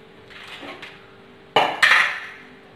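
A metal frying pan is set down on a lit stove with two loud clanks close together, ahead of oil being poured in for deep-frying chicken, over a steady low kitchen hum.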